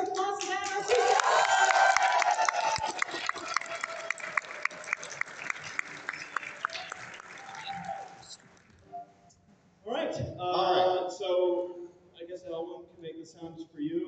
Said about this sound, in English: we can get a bigger applause than that